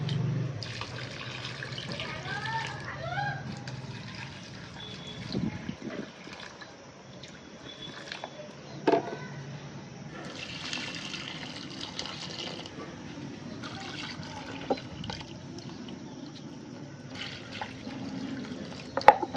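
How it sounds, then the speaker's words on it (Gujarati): Water running and splashing steadily as household plants are watered in the morning, a continuous moderate pour with occasional small knocks and drips, no speech. "જો શરૂઆત બધા ઝાડવામાં પાણી પાઈ દઉં"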